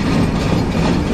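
The Chilahati Express intercity train slowly rolls onto Bangladesh's largest rail bridge, a 4.8 km iron truss span, giving a loud, close, continuous low rumble of wheels and carriages with no voices.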